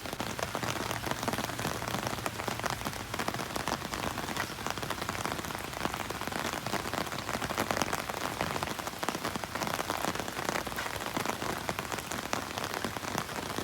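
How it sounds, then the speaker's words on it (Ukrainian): Steady rain pours down in a deserted town central park, a dense, even hiss of drops striking surfaces all around, continuous and fairly loud with no voices. "На дворі дощ, людей немає"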